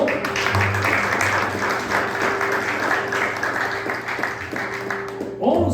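A church congregation applauds during a sermon, a steady wash of clapping with a low sustained hum underneath, ending abruptly as a voice returns.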